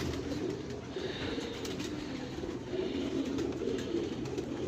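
Pigeons cooing softly at a distance, a low, steady murmur of repeated coos with faint background hiss and no talking.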